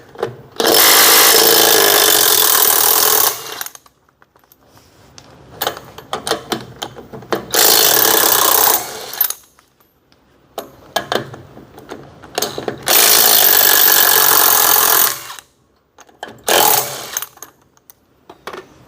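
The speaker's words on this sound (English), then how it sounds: "let's go ahead and get our adapter in there and get 3 of the 6 lugs removed" A power tool with a socket adapter removes lug nuts from a trailer wheel with a 6 by 5.5 inch bolt pattern: three loud, close bursts of rapid mechanical whirring, each a few seconds long, separated by quieter clinks and handling noise.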